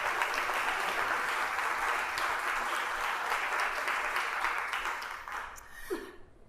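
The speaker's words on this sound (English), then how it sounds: "Please give them a big round of applause" A conference audience at a marketing industry kickoff event applauds the event sponsors, steady dense clapping that holds loud for several seconds and then thins and fades out.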